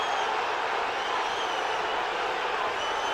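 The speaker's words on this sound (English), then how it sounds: "the crowd are erupting for that" Scottish football crowd in a stadium during a Hearts versus Celtic match, a broad continuous roar of massed voices, loud and steady with no breaks, no single voice standing out.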